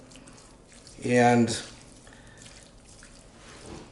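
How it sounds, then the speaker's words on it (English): Tap water briefly running into a pot while making Italian sauce at home, a short loud gush of about half a second amid quiet kitchen sounds, with a voice speaking around it. "So we're going to put a little bit of water in here"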